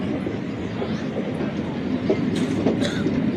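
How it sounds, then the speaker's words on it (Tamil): A suburban EMU electric train, freshly overhauled at the Avadi car shed, runs on rails with a steady close rumble and rhythmic wheel clatter, with a few brief higher squeals near the end. "இது வந்து POH train, freshly POH train at Avadi car shed."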